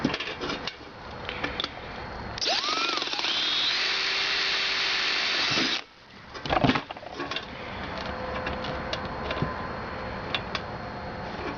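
A power drill bores a hinge hole in an oven build, a loud continuous whine that holds steady for about three seconds and then cuts off, with workshop clatter before and after.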